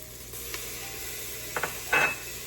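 Garlic is added to shallots that have been softening and browning in a pan for butternut squash soup. A faint steady sizzle is broken by a few brief stirring scrapes and a louder crackle near the end.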